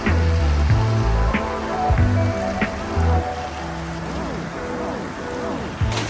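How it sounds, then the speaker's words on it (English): A heavy rain downpour near a lake in Nepal drums on a surface in a dense, close patter, with talk and layered background tones over it. "and then it just started downpouring."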